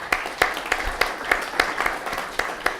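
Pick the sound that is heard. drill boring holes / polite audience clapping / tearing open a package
polite audience clapping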